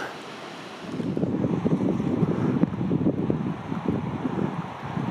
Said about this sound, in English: That's a lot of water falling.